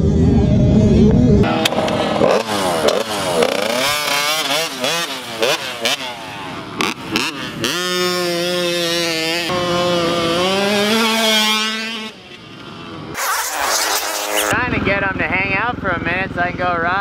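Dirt bike motorcycles ride at Pala Raceway, engines revving and rising and falling in pitch as they pass close by, loud throughout with brief gaps between passes and wind noise at the start.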